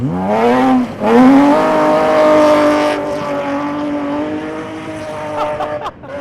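A rally car charges uphill on a gravel stage of the 2012 Oregon Trail Rally, its engine loud and close, revving through rising gear pulls with a brief lift around the first second and a sharp cut near the end.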